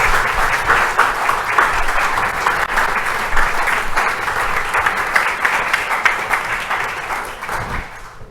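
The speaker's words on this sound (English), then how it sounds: "Please, a round of applause." An audience at an awards ceremony claps loudly and steadily for several seconds, a dense wash of applause that fades near the end.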